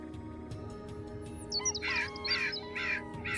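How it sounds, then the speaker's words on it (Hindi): A crow caws several times in quick succession, fairly close, over a steady low background drone in a cartoon story setting. "उसी रात कालू कौवा चुपके से दुकान के पीछे गया।"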